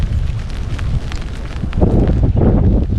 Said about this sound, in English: Man, wind's whipping.